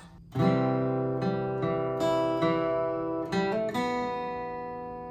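Acoustic guitar notes picked one at a time from a song intro, with a few quick legato hammered notes ringing together, played slowly and clearly with no voice.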